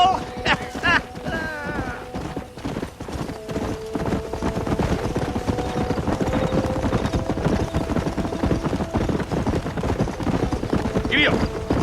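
Horse hooves galloping in Red Dead Redemption, a fast, steady clip-clop rhythm that runs throughout alongside game voices talking.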